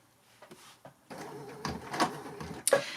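A Baby Lock sashiko machine advances in short, irregular mechanical bursts, clunks and whirs with brief pauses between stitches, recorded up close in a quiet room.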